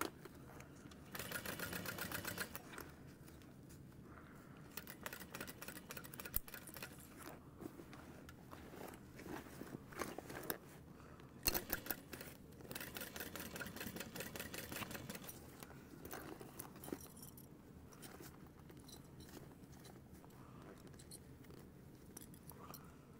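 A sewing machine stitches a dress seam in several runs of rapid mechanical whirring, broken by pauses and handling noises, close but fairly quiet.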